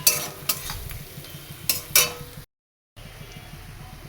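Egg curry being cooked in a pan, with close scraping stirs and clinks of a utensil against metal over a soft sizzle, a few sharp strokes in bursts, then a brief gap of silence.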